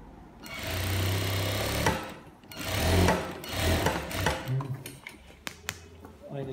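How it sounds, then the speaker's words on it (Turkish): A sewing machine topstitching about one to two millimetres from the edge on palazzo trousers, running in loud, steady bursts with brief pauses and small mechanical clicks between runs. "Bir iki milimden üst dikişimi çekiyorum arkadaşlar."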